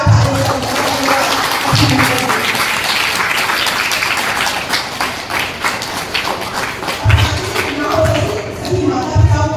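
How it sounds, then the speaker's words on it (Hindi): Applause fills a church hall as a congregation thanks a prize sponsor at a Catholic parish celebration, dense, steady clapping running the full length with a few louder swells near the start and end. "उनका भी जोरदार तालियों से धन्यवाद"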